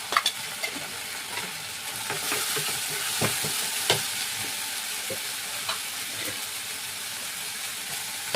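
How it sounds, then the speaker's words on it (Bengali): A spice paste with Kashmiri chili powder, salt, a little sugar and green chili paste sizzles in a frying pan while being stirred, with a continuous hiss broken by repeated scraping clicks from the spoon and no talking. "এবার কষাবো এটাকে ভালো করে।"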